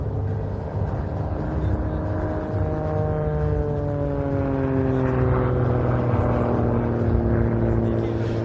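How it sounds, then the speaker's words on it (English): Aerobatic propeller airplane performing knife-edge passes, torque rolls and tumbles at an airshow in Saudi Arabia, a steady droning engine note with slowly sliding pitch, moderately loud and continuous beneath a commentator's voice. "pushes the known boundaries of aerobatic flying with these knife-edge passes, torque rolls, and heart-stopping tumbles"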